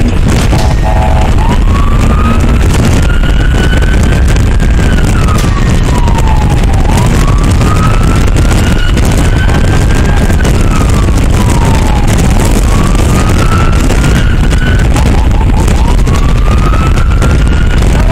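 A police car siren wails continuously for about eighteen seconds, sweeping up and down in long slow cycles, loud and close over heavy road and engine rumble, with no one talking.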